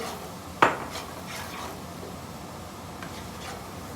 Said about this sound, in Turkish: Şimdi şöyle bir kaşık yardımıyla Soğanları tamamen pembeleştiriyoruz arkadaşlar.